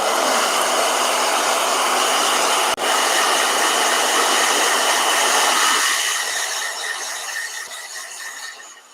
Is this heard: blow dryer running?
yes